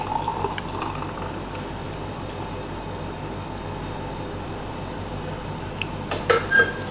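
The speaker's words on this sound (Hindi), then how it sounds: "अब हम इसको ग्लास में डाल लेते हैं।" Watermelon juice poured into a glass, a steady continuous liquid stream running for several seconds and then ending in a few small splashes and drips, close by, with nobody talking.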